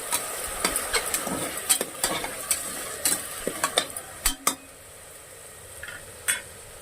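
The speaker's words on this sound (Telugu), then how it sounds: "ఉల్లిపాయ చూస్తారు కదండి ఎర్రగా ఫ్రై అయ్యింది" Onions frying in a pan for mutton paya curry, a soft steady sizzle broken by frequent sharp scrapes and clinks of a spoon stirring against the metal, close by with no talk.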